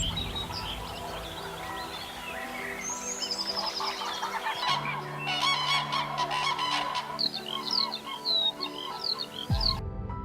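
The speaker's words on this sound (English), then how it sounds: "the cranes prepare for their long journey south" Cranes in Baltic wetlands call in a chorus of honking, trumpeting cries, many birds at once, some near and some farther off, continuing without any speech.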